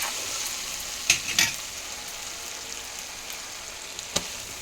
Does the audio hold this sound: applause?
no